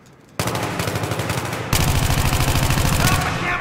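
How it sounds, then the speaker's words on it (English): Rapid automatic gunfire in a Battlefield game, close and loud, starting abruptly after a quiet moment and then growing heavier into a dense rattling stream of shots. "I don't even see the guy that's shooting me."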